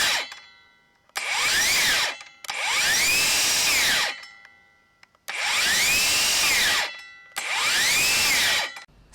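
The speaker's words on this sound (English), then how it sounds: "Starts off fast, cuts immediately, the blade break stops very quickly" A RIDGID Octane cordless circular saw spins up quickly, whines through a cut, then its electric blade brake stops it fast; four loud start-cut-stop bursts separated by short silences, with no talking.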